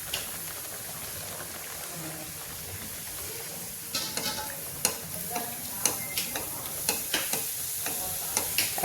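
Puri dough frying in a pan of hot oil, a steady broad sizzle with a run of crisp pops and crackles becoming more frequent in the second half.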